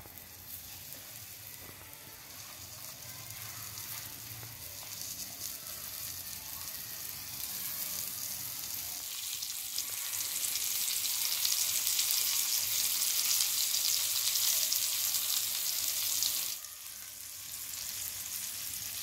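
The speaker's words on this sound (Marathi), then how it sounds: "आता कोळंबी यात मिक्स करायची चांगली, करायला ठेवूया।" Prawns sizzle and fry in hot oil in a pan, a steady hiss that grows louder and brighter midway as they are stirred, with a brief dip near the end.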